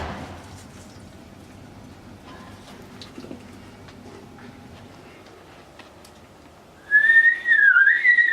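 A tea kettle whistles shrilly as the water boils, a steady wavering tone that starts abruptly near the end after quiet indoor ambience.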